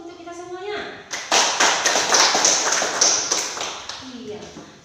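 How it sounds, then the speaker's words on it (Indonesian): A classroom of students clapping their hands together in a lively burst of rapid, dense claps at close range, with a teacher's voice speaking just before and after. "Tepuk tangan dulu untuk kita semuanya"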